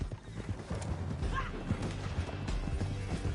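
Horse hooves clip-clop at a gallop in Red Dead Redemption 2, a quick rhythmic pounding close by, with a brief whinny and a voice talking over it.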